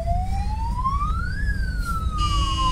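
An ambulance siren waits at a red light in congested traffic, its wail sweeping up and then down in a slow cycle over a steady rumble of surrounding engines.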